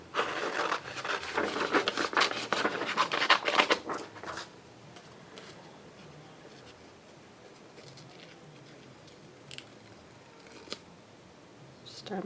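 Scissors snip paper in a quick burst of close, crisp rustling cuts for about four seconds, then the room goes quiet apart from a few faint ticks and clicks.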